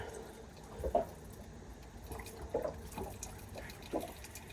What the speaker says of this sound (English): This can drip a little bit.